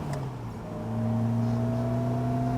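Caterham sports car with a freshly reinstalled differential, its engine droning as it drives, then revving up to a higher, steady pitch that holds on, heard from inside the car with no talk.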